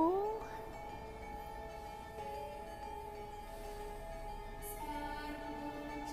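A cat-like creature in the video game Kena: Bridge of Spirits gives a rising meow-like cry at the start, followed by sustained tonal game music and ambience that carry on steadily.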